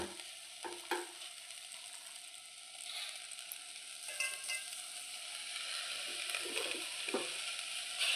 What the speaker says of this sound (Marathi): बारीक गॅसवर आपल्याला हे एकत्र करून घ्यायचं आहे हे आपल्याला सारखं हलवत राहायचं आहे